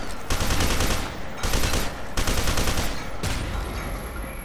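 Sustained rapid gunfire from F.E.A.R. 2: Project Origin, loud and continuous bursts with brief gaps between volleys and no talk.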